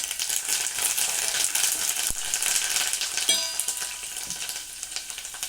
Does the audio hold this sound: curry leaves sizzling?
yes